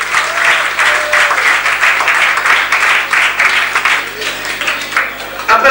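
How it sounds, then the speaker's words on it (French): Lively applause from an audience at a 1984 inter-sports evening at the Tempo-Club in Alençon, honoring an exhibited buggy, dense and continuous clapping with some crowd murmur throughout. "on peut les applaudir quand même pour le buggy exposé"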